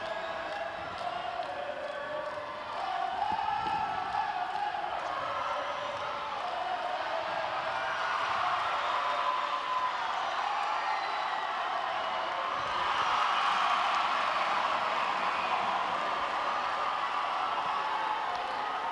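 A netball crowd at a youth world cup match between Botswana and Uganda cheers in a steady, broad roar that swells midway, with no clear separate claps.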